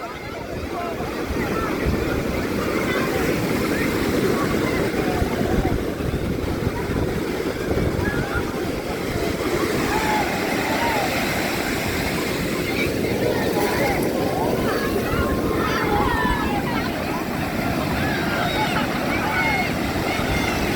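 Sea waves break continuously at Puri beach, a steady churning surf roar with gusty wind buffeting the microphone, and voices talk now and then over the water.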